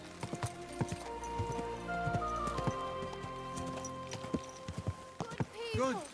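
In the medieval video game Kingdom Come: Deliverance II, horse hooves clip-clop in uneven steps beneath voices and a sustained musical score. A rising whinny-like sound comes near the end.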